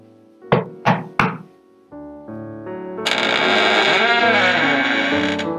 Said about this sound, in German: geh hin und klopf an